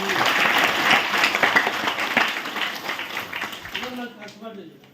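A church congregation at a Calvary Preeti Ministries gathering in Bidar claps steadily together, a dense crowd applause that fills the room and fades near the end as a preacher's voice returns.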